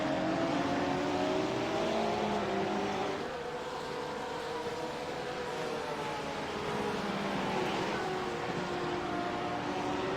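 Porsche GT3 race cars lap the Catalunya circuit, engines whining and droning at a distance with shifting pitch as they accelerate, a continuous mid-loud roar with no talk.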